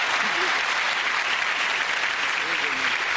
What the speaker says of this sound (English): Give them all a round of applause